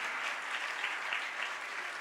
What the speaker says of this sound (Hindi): जितनी बरकत पाई है उतनी तालियां बजाइए